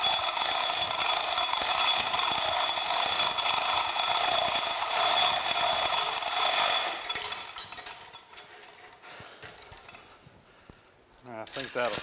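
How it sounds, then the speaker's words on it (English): A gantry crane hoists a steam locomotive stoker engine in a restoration shop, giving a steady loud rattling, clanking mechanical drone for about seven seconds before it drops off into quieter scattered clanks. "So I'm going to go ahead and start pulling her up here with the gantry crane."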